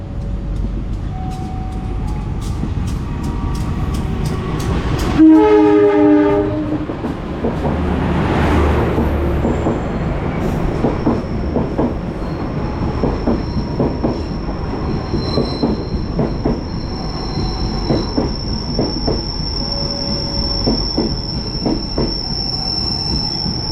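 A passenger train runs on rails near Cikampek, rolling loudly and steadily close by, with rhythmic wheel clicks, a brief burst of squealing tones, and a long high-pitched wheel squeal carrying through the second half.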